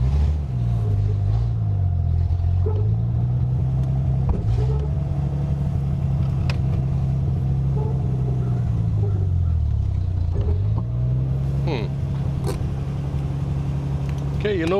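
Engine of a 1974 Triumph TR6 that has been left sitting for years idles steadily once warm, a continuous low rumble whose pitch dips and rises a few times, with voices talking faintly over it.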